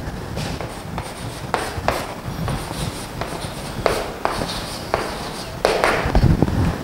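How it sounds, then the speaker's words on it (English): Chalk or marker scratching across a board while a maths problem is written out, a steady run of short strokes and taps with faint room noise, no talk. "Write the next problem"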